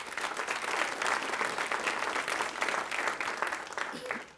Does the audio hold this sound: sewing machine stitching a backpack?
no